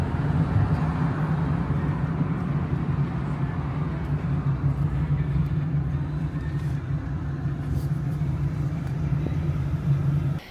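Constant city car traffic in Lima makes a steady, dense rumble and roar of engines, loud and unbroken for the whole stretch with no clear voices.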